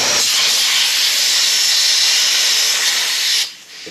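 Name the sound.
air blowing out of a tyre valve stem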